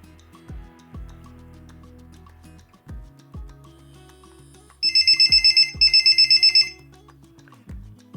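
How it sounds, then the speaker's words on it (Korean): An MP-300 wide-area pager, a roughly 30-year-old model, powers up with a short burst of rapid high electronic buzzer beeps in two runs, alongside low rattling thuds of its vibration motor against a surface, fairly close and clear. "부저 그 소리까지 확인하면서 초기 기동 잘 했습니다"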